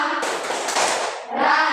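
A classroom group doing the Tepuk Pancasila clap routine, dense overlapping hand claps that rise to a full burst, dip briefly and then swell again, close and loud.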